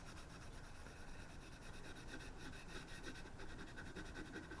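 Abrasive rubbing removes surface rust from a Spanish M1943 8mm Mauser rifle, a faint, steady back-and-forth scrubbing in close, repeated strokes with no talking.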